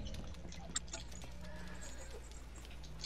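Faint horse sounds in the video game Red Dead Redemption 2, soft hoof steps and a quiet snort or whinny over a low ambient background, with no talk.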